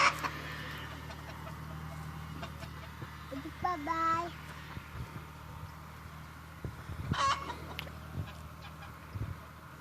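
Geese and ducks honk and call in short bursts, with a few clear cries standing out against steady background hum while someone talks in between.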